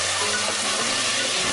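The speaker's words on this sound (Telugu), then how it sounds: "1 టేబుల్ స్పూన్ అల్లం వెల్లిపాయ పేస్ట్ వేసి పచ్చివాసన పోయేంత వరకు వేయించుకోవాలి" A tablespoon of ginger garlic paste fries in a pan, a dense steady sizzle heard up close and without a break. No one talks.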